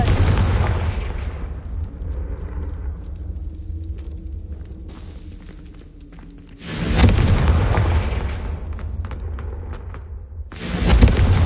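Confringo blasting spells from the wizarding game Hogwarts Legacy: several heavy booming explosions, one opening, a larger blast midway and another near the end, each loud and close, with a low rumbling tail between them.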